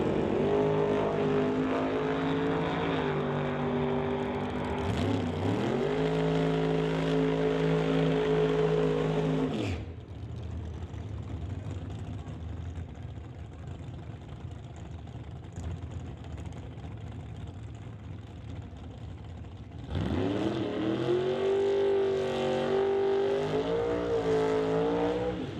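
Drag racing doorslammer cars, including a 1954 Studebaker, launching and accelerating hard down the strip, loud roaring engines rising in pitch, cutting off abruptly, a quieter lull, then another loud surge of revving engine noise.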